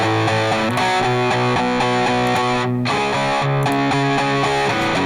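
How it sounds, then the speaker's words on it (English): Electric guitar chords ring out through the Airwindows Precious plugin with a heavy effected tone, distorted and shimmering, playing steadily with a brief gap near the middle; no talking. "And here's a guitar, and it can sound like this."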